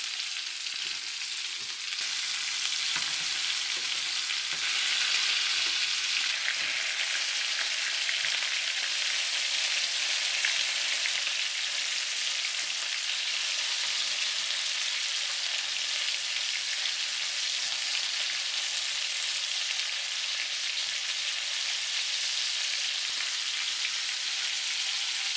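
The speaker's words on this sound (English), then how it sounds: "They take their time to kind of fry them up because they are pretty good sized shrimp" Large shell-on shrimp fry in hot oil in a pan, giving a steady, dense sizzle with crackling spatters throughout, close and uninterrupted by voices.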